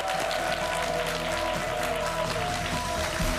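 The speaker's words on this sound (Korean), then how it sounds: "김경호 이미지 센터의 김경호 교수님을 큰 박수 맞으시기 바랍니다" A studio audience at a Korean YTN DMB lecture talk show applauds in a dense, continuous wash that holds steady throughout, with a faint tonal hum running underneath.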